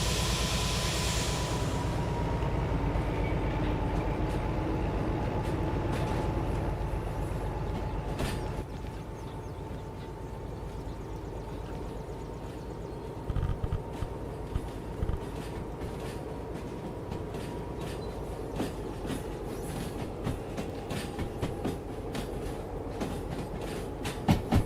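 A train in the Derail Valley game rolls in reverse, a continuous low rumble with a faint whine and light rail clicks building toward the end, steady and close with no talking.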